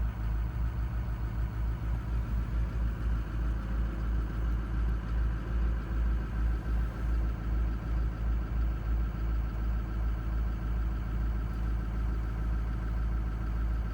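A John Deere 2210 sub-compact tractor engine drones steadily up close while plowing snow, a constant low rumble with a faint pulsing beat and no voices.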